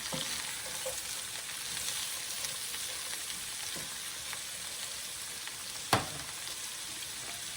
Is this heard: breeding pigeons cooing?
no